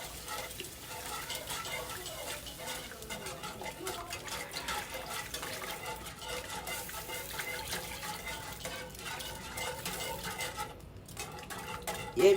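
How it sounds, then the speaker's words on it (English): Whisk and spoon stirring brown country gravy in a pan for liver and onions, a steady soft scraping and clinking that runs continuously at low level, close by. "Yeah, you got to keep stirring, whisking."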